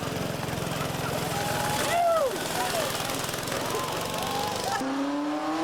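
Several race cars of all types and sizes roar past close by at the race start at Pikes Peak, engines droning loudly with pitch sweeps as they pass, and a crowd murmurs faintly underneath.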